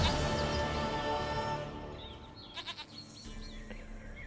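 A goat bleats in The Witcher 3, a few short, close bleats in the second half coming after a dense, busy stretch of game background sound.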